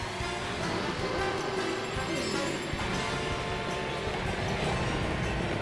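A subway-style train rushes past on a Mario Kart 8 DLC track, its steady, loud rumble filling the whole stretch beneath broad noisy game sound, with no voice over it.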